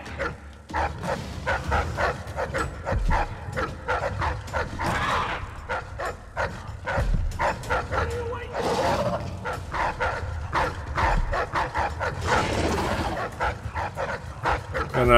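Several dogs in the video game Dishonored 2 bark, yip and growl steadily, close and loud amid game combat noise, with someone talking at times.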